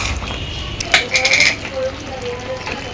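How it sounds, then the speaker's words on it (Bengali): Jackfruit curry with ground garam masala is stirred in a pan, a utensil clinking and scraping against the metal in a brief cluster of bright taps over a low sizzle. "এখন আমি এঁচুড়টাকে ভালো করে নেড়ে চেড়ে নেব"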